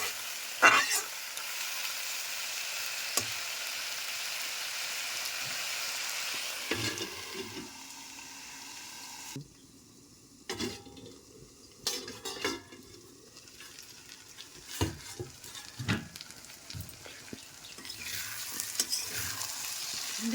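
Soaked chickpeas and taro greens, cooked with hilsa fish heads, sizzle in a pan while being stirred. A steady frying hiss gives way to scraping, clattering stirs and lid knocks at close range, with no talking.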